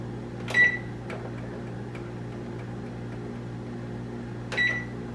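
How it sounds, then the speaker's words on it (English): An oven's control panel gives two short, bright beeps about four seconds apart as it is set to preheat to 400 degrees, with a low steady hum in between and no speech. "We just need to preheat the oven."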